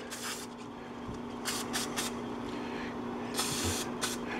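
A parts washer sprays the outside of a string trimmer carburetor to clear off gunk, giving soft hissing bursts of spray that come and go over a quiet background hum.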